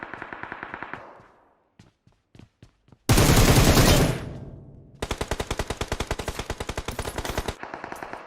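Automatic gunfire in PUBG Mobile during a custom room match: a few sharp single shots, then a loud blast burst, followed by a rapid, steady machine-gun volley lasting several seconds, close and dominant with no talk.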